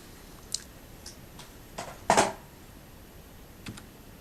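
A Perixx Periboard-317 backlit USB keyboard gives scattered key presses, a few light taps followed by a louder cluster of clacks near the middle, then single taps, all close up with no talking.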